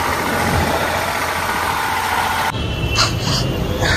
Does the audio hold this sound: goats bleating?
no